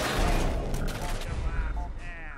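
A burst of gunfire in a video game, several rapid rounds fired close up, loud and dense with booming low end and crackling echo tails, with faint voice chatter underneath.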